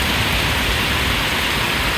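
Super heavy rain pouring down in a dense, continuous hiss, loud and close with no pauses or other sounds.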